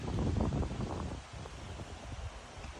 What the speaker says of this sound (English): you can see just how we're getting a decent amount of wind.